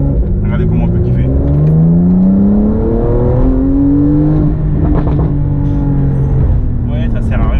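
Porsche 911 driving on rough, broken gravel roads in Mauritius, its engine revving and pitch rising and falling through gear changes, loud and close, with gravel crunch underneath and a person talking over it.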